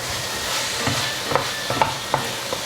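Zucchini and tomato are stir-fried in a pan, a steady close sizzle broken by a few light scraping clicks of a utensil tossing the vegetables.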